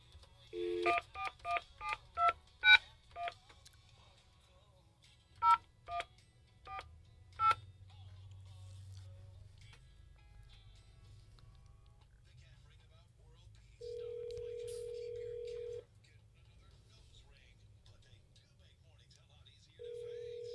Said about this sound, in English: Let me start dialing.